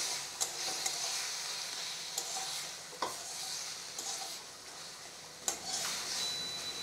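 Spinach stir-fried in a pan sizzles steadily as a spatula scrapes and taps the pan in irregular clicks every second or so, close and with no one talking.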